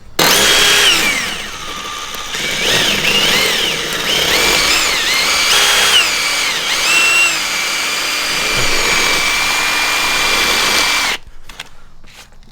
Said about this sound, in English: it has to be almost drilled like this to get it at the right angle